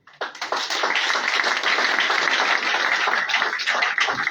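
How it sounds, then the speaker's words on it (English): An audience bursts into rousing applause for a chief at a capping ceremony, and the dense, steady clapping holds for about four seconds after a sudden start. "give a rousing applause to His Majesty"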